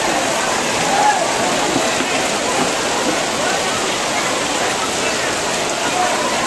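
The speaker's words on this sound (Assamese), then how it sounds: "পুৰা একদম ধাৰাসাৰ বৰষুণ মাৰিছে" A heavy, steady downpour pours over an open-air theatre pandal, a dense continuous hiss of rain that stays loud and unbroken throughout.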